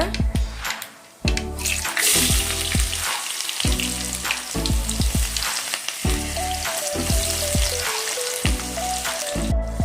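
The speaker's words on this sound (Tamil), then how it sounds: "நல்லா இந்த மாதிரி ஃப்ரை பண்ணிக்கோங்க." Onions and fenugreek seeds frying in hot oil, a loud continuous close sizzle with rhythmic low scraping thuds from stirring throughout, no talk.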